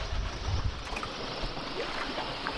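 A sailboat motors slowly across a rolling sea off Mexico's Baja coast, giving a continuous low rumble under a rushing wash of water against the hull.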